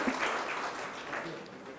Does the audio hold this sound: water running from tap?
no